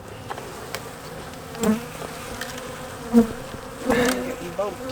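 A steady, dense buzzing of many honeybees fills the air, with individual bees droning louder as they pass close by.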